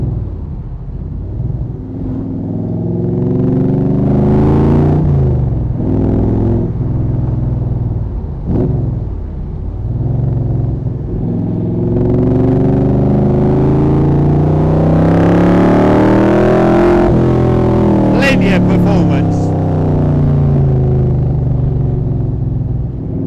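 A Cobra replica car with a light aluminium Rover V8 engine driving on the road, its loud, close engine rumble rising and falling through gear changes and acceleration, continuous throughout with no voices.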